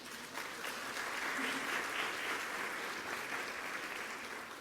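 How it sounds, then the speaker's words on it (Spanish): Applause from the audience at the opening of an international traditional music forum runs as a steady, moderately distant patter of many hands, slightly swelling in the middle. "Por favor, un aplauso."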